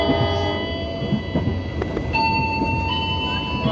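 The Tawangalun passenger train rolls into Tanggul station in Indonesia, with a steady interior rumble, clanks and sustained high metallic squeal of brakes or wheels as it slows.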